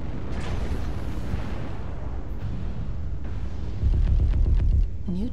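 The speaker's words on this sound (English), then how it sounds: "Airstrike activated." Airstrike explosions in the MechWarrior Online mech combat game rumble as a continuous deep roar with a louder low burst near the end, mechanical creaks and a brief tonal warble over it.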